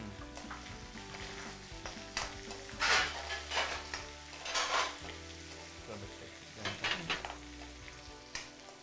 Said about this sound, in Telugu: కొద్దిగా ఆనియన్స్ కొంచెం ఫ్రై అయ్యాక అప్పుడు ఆ వెజిటబుల్స్ వేద్దాం